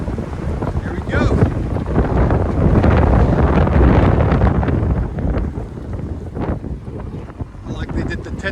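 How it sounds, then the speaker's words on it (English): Heavy wind buffets the microphone outdoors in loud, rumbling gusts that roar continuously, with faint voices underneath. "Sorry guys, it got windy all of a sudden"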